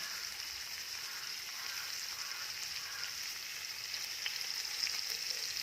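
Rava (semolina) with salt is sautéed in a pan for upma, making a soft, even frying hiss with faint stirring underneath, steady and nearby, with no speech.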